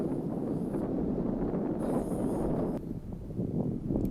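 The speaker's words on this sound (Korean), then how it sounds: "들리는 건 모래의 바람 소리뿐." Low, rushing wind blows sand across the desert in the United Arab Emirates, buffeting steadily with a rough, blustery rumble, rising and dipping slightly, with no voices.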